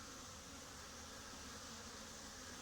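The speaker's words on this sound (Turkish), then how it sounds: "Bu kadar güzel arının uçtuğuna baharda şahitlik ediyoruz." Faint, steady buzzing of bees in flight in autumn, a soft continuous drone with no voices.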